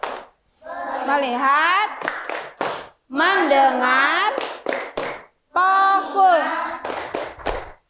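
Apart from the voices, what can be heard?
children's rhythmic 'tepuk fokus' clapping chant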